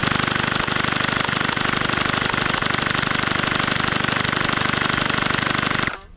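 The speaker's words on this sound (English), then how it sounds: "Now let's fire some shots at the rival Jupiter target, which is sitting about 25 to 30 feet away." Nerf Pro Gelfire Warp Speed gel blaster firing a continuous stream of shots at a target about 25 to 30 feet away, heard as a dense, steady, motorized buzzing rattle for six seconds before stopping abruptly.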